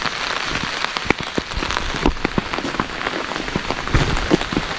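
Heavy May rain drums hard and steadily on surfaces around a coffee plantation, a dense close patter with sharp individual drops and no voices.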